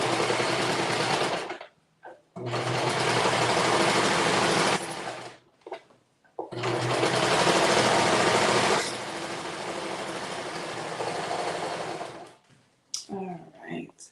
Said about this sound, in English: I forgot to serge back over this real quick.